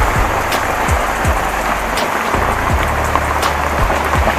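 Heavy rain pours down steadily with dense, continuous hiss and patter on surfaces, with occasional low thumps of drops nearby, no voices heard.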